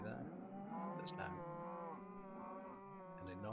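Cows in the Minecraft video game moo in overlapping, drawn-out low calls, loud and continuous as a group of cattle is released.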